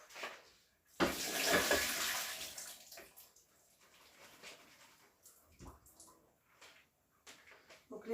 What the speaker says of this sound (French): je vais les égoutter avec ma passoire